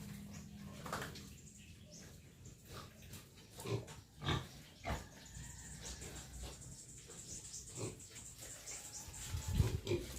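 Pigs and piglets at a piggery farm jostle over their water, giving scattered grunts and snorts with a few louder bursts against a steady background of running water and farmyard noise.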